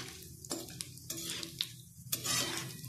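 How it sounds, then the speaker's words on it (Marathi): Pieces of edible gum (dink) frying in hot ghee in a pan while being stirred, giving a steady soft sizzle broken by several sharp scraping and stirring clicks, close and clear with no talk. "थोडा थोडा करत डिंक तुपामध्ये फुलेपर्यंत छान तळून घ्यायचा।"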